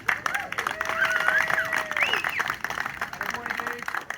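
Club members applaud Dave Specker as he receives a life membership. The clapping is moderately loud and mixed with crowd murmur and cheering, and a whistled or tonal sound rises and falls through it.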